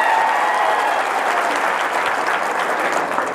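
A crowd at an outdoor political speech gathering in Loha, Nanded claps steadily; dense, continuous applause at a constant level fills the whole stretch without a break.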